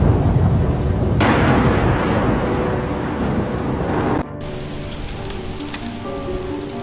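Heavy rain pours down during a lightning storm, and a loud burst of thunder rolls through the downpour before the sound cuts to steadier, quieter rainfall.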